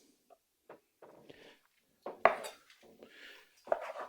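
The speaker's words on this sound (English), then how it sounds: "slice this in half as well" A knife slices citrus fruit in half on a cutting surface in a quiet kitchen, giving a few soft cutting scrapes and two sharp knocks as the blade strikes through.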